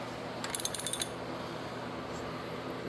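A wrench ratchets a new stud tight into a mini bike motor, a quick run of about eight sharp metallic clicks close and quiet, then stillness.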